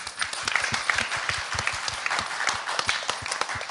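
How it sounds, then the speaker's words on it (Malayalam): Applause at a junior singing competition show, a dense audience clapping continuously and evenly throughout, loud and close. "അതിന് നമ്മൾ നല്ലൊരു കൈയടി കൊടുത്തേ."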